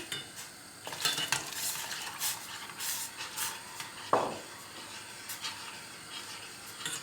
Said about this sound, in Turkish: Şimdi bunu kaynayan çorbanın içerisine ekleyeceğim kaşıkla karıştırayım daha iyi.